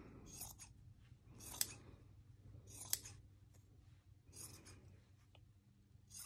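Scissors snipping through old jersey fabric while making a drawstring backpack, a series of quiet, close crisp cuts in a steady rhythm with soft rustling between them.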